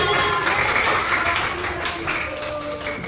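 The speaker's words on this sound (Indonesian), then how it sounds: "tepuk tangan untuk kelompok kita" Students in an elementary school classroom clap for their group, a dense, steady burst of applause that stays loud for about three seconds and tapers slightly at the end, with faint voices mixed in.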